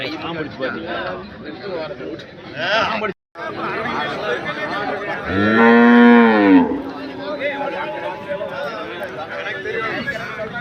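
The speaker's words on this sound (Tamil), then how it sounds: "என்ன சொல்லுது மாடு" Cattle at the Anthiyur cow market, where dairy cows are sold, give one loud, drawn-out moo midway through. A steady din of people talking and market chatter surrounds it.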